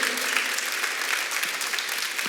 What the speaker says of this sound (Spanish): Da un aplauso fuerte a Él